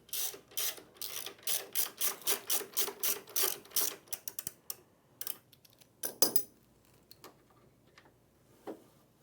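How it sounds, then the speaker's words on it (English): A shoulder bolt is removed from the transfer roller brush of an IKON copier with a ratchet. It gives a quick, even run of close clicks, then scattered clinks and taps as the brush is supported. "Remove the shoulder bolt from the brush, supporting the brush so it does not fall."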